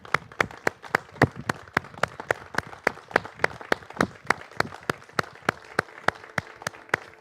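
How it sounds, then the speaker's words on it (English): Steady, rhythmic clapping at a church service for Laura and medical professionals, sharp evenly spaced claps about three per second carrying on alone against a quiet room. "I would love us to give a standing applause for Laura"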